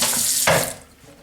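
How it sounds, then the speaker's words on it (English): Tap water runs into a sink while a Vitamix blender container is rinsed, a close, loud splashing stream that cuts off abruptly partway through, leaving only a faint drip. "rinsing out the container, a drop or 2 of soap, clean out the lid, a drop or 2 of soap,"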